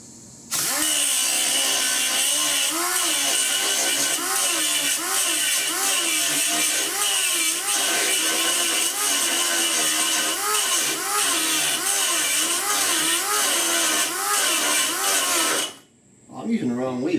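Handheld grinder working sheet metal for custom A/C vent pods in a 1966 Ford F100 dash, a loud, harsh, pulsing grinding whir held steadily for about fifteen seconds before stopping abruptly.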